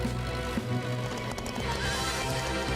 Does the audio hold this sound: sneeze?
no